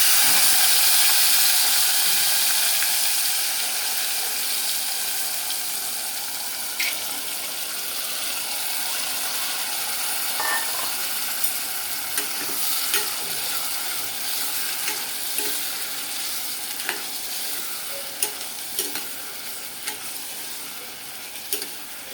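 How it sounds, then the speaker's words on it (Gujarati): Lima beans are tempered in hot oil with garlic and turmeric, giving a hissing sizzle that starts loud and settles to a softer crackle, dotted with small pops and utensil taps, close and without talk. "પછી આપણે એમાં જે વાલ છે એ વાલનો વઘાર કરીશું।"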